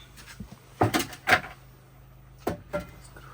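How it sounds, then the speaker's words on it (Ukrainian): A door is pushed shut indoors with a few clunks and knocks, then more bumps follow after a pause, faint room noise between them and no voices. "Закрывай двері, да?"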